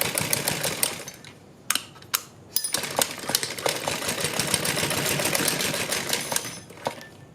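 A sewing machine stitches lace border onto the slit of a kurti, running in a fast, steady, close chatter with brief pauses and restarts.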